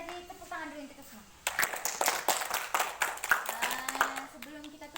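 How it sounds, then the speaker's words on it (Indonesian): Children at a scout gathering clap their hands together in a burst of rapid, scattered claps that begins suddenly partway through, following a stretch of adult talk. "tepuk tangan dulu untuk kita semua"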